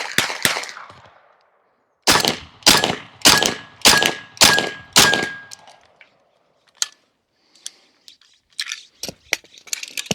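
Bin Tac S45 .457 carbon semi-auto air rifle: one loud shot, then five more sharp, close reports in quick, even succession, followed by fainter clicks and mechanical clatter.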